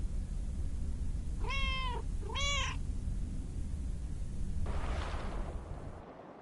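Two clear meows from a cat in the video game Lake, close and distinct with a short gap between them, over a steady low background hum, followed by a soft rustle.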